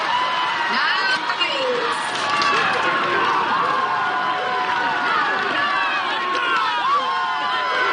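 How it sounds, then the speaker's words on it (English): Lively American Ninja Warrior crowd cheering and whooping, a loud sustained roar of voices with shrill shouts rising above it, continuous from start to end. "Oh, Big Daddy got this crowd turned up."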